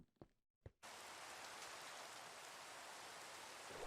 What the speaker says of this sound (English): As the rain started falling,